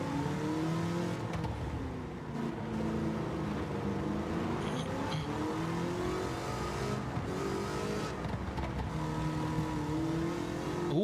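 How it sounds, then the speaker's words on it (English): A supercharged rally car's engine in a racing video game revs steadily and loudly through the whole stretch, pitch rising and falling with throttle changes, with no talk over it. "the supercharger kind of activates in the medium to high torque, man. No wonder I'm bogging out in the low RPM range."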